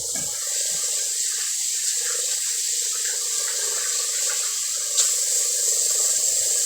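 Tap water runs steadily into a kitchen sink while hands are washed under it, giving a continuous close hiss with faint splashing.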